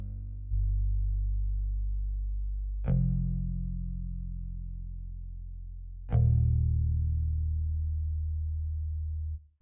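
A live bass line from a hip-hop beat intro sounds three long sustained low notes, each starting with a soft pluck and ringing for several seconds, close and deep with no voices.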